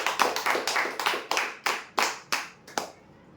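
Clapping for a prize winner at a customer lucky draw: about nine distinct, evenly spaced claps ring out one after another in a reverberant room, each fading quickly, with no talking.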